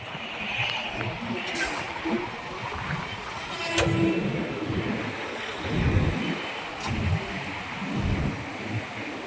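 Steady broadband rush of the Kaveri river's water where it meets the Bhavani, heard outdoors with gusts of wind buffeting the microphone and swelling the roar now and then.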